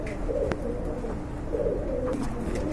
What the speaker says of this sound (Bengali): এত বিগ সাইজের কবুতর দেখেন আপনারা